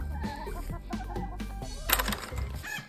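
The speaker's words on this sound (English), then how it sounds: "If you put another chicken in here, Randy might fight the other chicken." Chickens on a small farm cluck in short, repeated bursts, close and fairly steady, with a brief louder squawk near the end and no talking.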